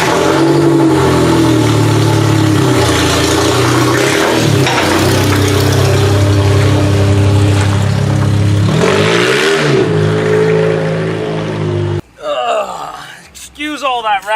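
A Buick demolition derby car engine turns over and revs up loudly after a motor swap, running steadily with rising and falling pitch, then cuts out near the end amid some clattering.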